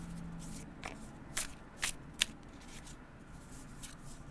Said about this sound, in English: Okay, so go one more shuffle.